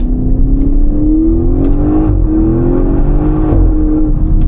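A 2017 Audi RS6 C7 with a 565 hp engine and Audi Sport titanium exhaust drones loudly and steadily from inside the car, its pitch rising slowly as it pulls along, with no talking.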